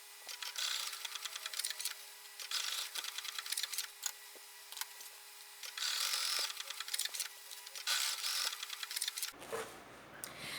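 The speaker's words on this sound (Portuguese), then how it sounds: "Prontinho, costurei as 3 rendas." A sewing machine stitches lace trim onto a fabric pouch, running in several loud, steady mechanical bursts with short pauses between them, then stopping near the end as quieter handling noises follow.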